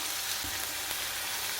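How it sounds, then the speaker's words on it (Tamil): Chopped onion, tomato and green chili sauté in hot oil for an idli kurma, giving a steady, dense sizzle and crackle with a faint stirring scrape, close and continuous with no voices. "வெங்காயம், தக்காளி எல்லாமே நல்லா வதங்கணும்."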